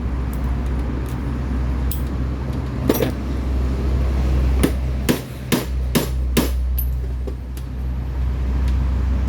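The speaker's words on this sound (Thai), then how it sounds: "ตอกให้แตกเลยโป๊กโป๊กโป๊ก" A car starter motor is struck with a hammer in a series of sharp metallic knocks, some in quick bursts, over a loud steady engine idle and road-like rumble.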